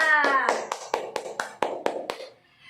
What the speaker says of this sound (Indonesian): kita beri tepuk tangan untuk kelompok Cika